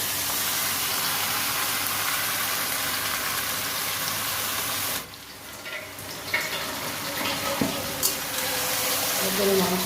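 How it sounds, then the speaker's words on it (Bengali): Mutton tipped into a pan of frying onions, a loud steady sizzle that drops off abruptly midway, then returns with some clatter and stirring. "মাংসটা দিয়ে দিচ্ছি।"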